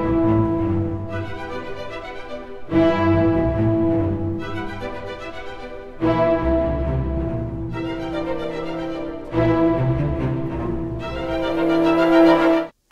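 Orchestra playing the fourth movement of Dvorak's Symphony No. 9, short phrases rising and falling in swelling bursts with a bright sustained upper line, full and close, no voices.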